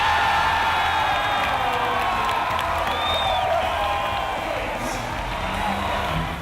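Steady crowd noise fills a BYU volleyball game, a continuous dense roar of cheering and whoops from the stands, loud throughout with no clear breaks.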